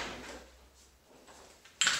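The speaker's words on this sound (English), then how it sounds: "you can actually put that around the doorknob, shut the door" A door shutting with a resistance band looped around its doorknob, heard as a single sharp close near the end after a stretch of quiet room tone.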